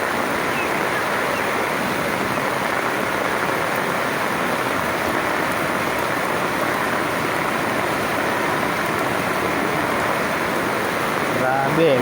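Heavy rain pours steadily outdoors during a vegetable harvest, a dense, unbroken hiss that stays loud and constant throughout, with a voice speaking faintly underneath.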